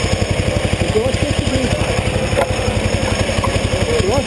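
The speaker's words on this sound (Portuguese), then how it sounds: "Olha aí, tá acelerando." A racing kart engine at the Interlagos circuit revs with a fast, buzzing pulse, loud and close, holding steady under occasional faint voices.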